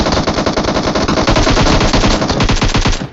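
Loud, close automatic gunfire from the PUBG Mobile video game comes in rapid bursts with barely a pause throughout.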